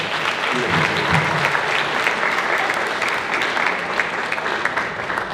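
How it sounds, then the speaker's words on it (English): Audience applause at a Frenchship Pride of Pantherland high school band concert during senior recognitions: full, steady crowd clapping lasting several seconds, even and continuous with a faint murmur beneath. "You can give a round of applause."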